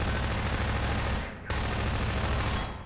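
Heavy gunfire in the video game Half-Life 2: a dense, continuous volley of shots that briefly thins out near the middle and then resumes, loud and close, with no voices.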